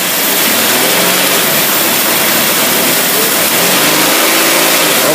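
A marine boat engine is run up, giving a steady, loud, dense roar that fills the whole stretch without letup.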